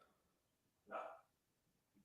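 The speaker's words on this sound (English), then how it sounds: "Dogs in the background." A dog barks once in the background, a single short faint bark in an otherwise quiet room.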